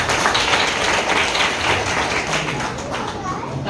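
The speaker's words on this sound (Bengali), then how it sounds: "জোরে প্রভু জন্য করতালি দিন" A Bengali church congregation claps loudly for the Lord during a sermon, a dense, steady wash of applause that fills the whole stretch without a break.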